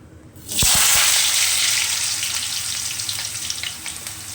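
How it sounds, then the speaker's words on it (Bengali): Potatoes hit hot oil tempered with panch phoron in a wok with a sudden loud hiss, then settle into a strong, steady sizzle that slowly fades a little. "কড়াইয়ের মধ্যে আমি তেল দিয়ে পাঁচ ফোড়ন দিয়ে দিয়েছি এরপর আলুগুলো এর মধ্যে দেবো"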